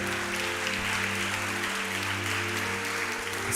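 A church congregation applauds during a Portuguese-language worship service, steady clapping over a sustained low musical drone, moderately loud and continuous throughout.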